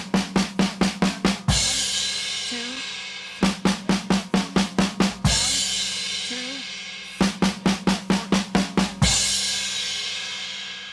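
Drum fill of eight quick 16th-note hits landing on a crash cymbal, played three times in a loop, each rapid run of sharp strokes followed by a long washy crash ringing out, no talking.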